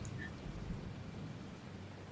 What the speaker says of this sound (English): As the rain begins to fall across you guys, it's going to be a bedraggled day.